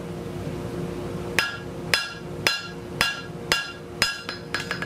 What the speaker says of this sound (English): I'm gonna finish drawing out that last little nub there.